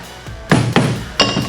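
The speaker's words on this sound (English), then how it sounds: "I always use a screwdriver and a hammer. I just put it down right behind that, tap it a few times" A hammer tapping a screwdriver placed behind a Case tractor hydraulic cylinder gland to loosen it, three sharp metallic strikes with short ringing decay, close and loud, no speech.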